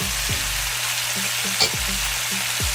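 Garlic, thyme and carrot sizzle steadily in a hot pot for Jamaican oxtail stew, with a continuous close frying hiss and several soft scraping stirs of a spoon against the pot.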